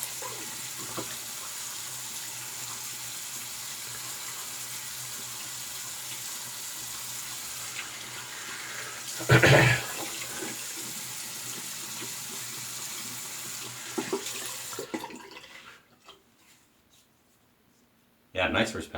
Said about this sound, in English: We'll rinse the face and we'll relather for pass 2.